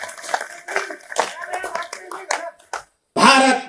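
Hands clapping together in a Hindi poetry gathering, a burst of applause from the audience following a stretch of lively voices and scattered claps, rising loud and dense near the end.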